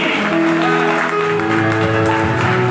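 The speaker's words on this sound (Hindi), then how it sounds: "इसके लिए जोरदार ताली होना चाहिए, बेस्ट ताली।" Loud, steady applause from a church congregation during a sermon on healing, sustained throughout with a held musical tone running beneath the clapping.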